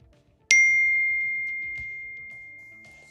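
A single bright phone notification ding rings out clearly and decays slowly over a few seconds in a quiet room.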